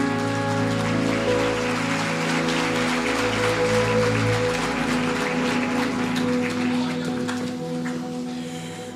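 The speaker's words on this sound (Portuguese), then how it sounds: "Se assenta dando a melhor salva de palmas que você pode para Jesus." A church congregation applauds for Jesus in steady, dense clapping that fills the room and slowly fades, with a sustained musical drone underneath.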